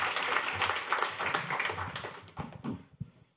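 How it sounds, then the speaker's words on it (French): An audience at an innovation conference on French overseas territories applauds as a speaker is invited up: dense, steady clapping from a seated crowd that thins into scattered individual claps before stopping. "sous vos applaudissements s'il vous plaît"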